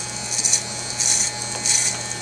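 Electric hair clippers fitted with a 1-inch blade cutting hair during a close men's cut, a steady motor buzz with three repeated louder passes as the blade moves through the hair.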